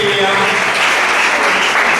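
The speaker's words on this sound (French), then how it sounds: "on applaudit fort s'il vous plaît" Audience applauding at a children's event, a dense continuous wash of clapping filling the room, loud and close, with a voice faintly mixed in.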